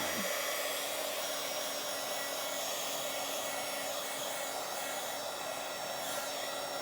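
A hair dryer blows steadily and close throughout, drying a page of a Bible journal, a continuous loud whooshing hiss with no talk over it.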